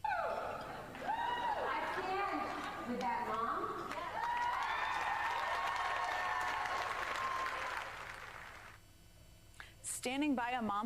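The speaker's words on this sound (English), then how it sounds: "People cheering for that." An audience cheers and applauds loudly in a sustained wash of clapping and raised voices, then the applause fades and a voice speaks at the end.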